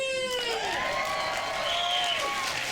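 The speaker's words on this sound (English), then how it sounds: "All right, round of applause" An audience at a ProJared panel at Portland Retro Game Expo cheers and whoops, with a few clear rising shouts over a bed of crowd noise and scattered clapping, all fairly loud and close.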